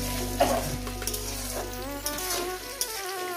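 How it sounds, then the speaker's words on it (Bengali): Onions fry in a pan for a mutton curry, giving a steady close sizzle with a few soft spoon scrapes and stirs and no talking. "পেঁয়াজটা যাতে সুন্দর ভাজা হয়"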